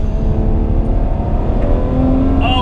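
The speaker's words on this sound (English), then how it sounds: "I'm sure you can hear those gear shifts, they're explosive." A 2022 Ferrari 812 Competizione V12 pulls hard under acceleration, with a loud, continuous engine roar and a rising note near the end, heard close with no talking.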